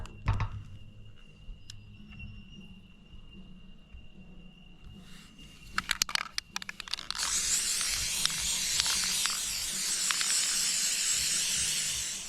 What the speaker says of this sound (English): I'm just going to spray it with rust converter.